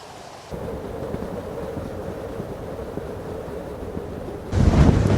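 Strong wind at a hotel pool area on Rhodes, Greece roars steadily across the microphone as a low, rumbling buffeting, swelling into a louder, harsher gust near the end.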